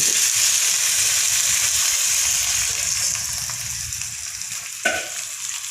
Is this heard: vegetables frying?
yes